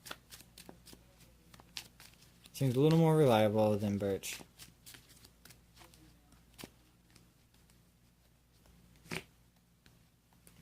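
Pokémon trading cards are shuffled back into a deck, soft papery riffling and taps at close range, partly interrupted by a person talking.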